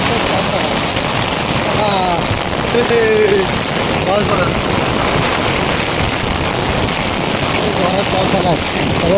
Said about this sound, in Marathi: पाऊस कसा आला बघा जोरदार पाऊस आला इकडे आता